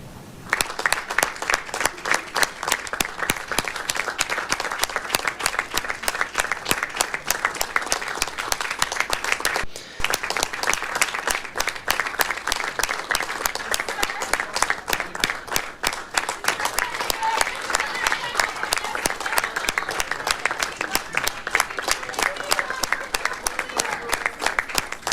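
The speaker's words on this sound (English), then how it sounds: "He kept clapping after Donald" A crowd applauds steadily at a Donald Trump event, dense continuous clapping from many hands filling the room for the whole stretch, with no talk above it.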